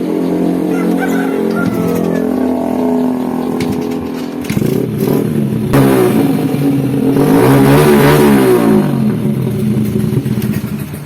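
A motorcycle engine with a freshly repaired oil drain bolt thread fires up, idles briefly, then revs repeatedly in close, loud bursts that rise and fall.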